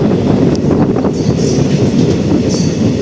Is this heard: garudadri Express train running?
yes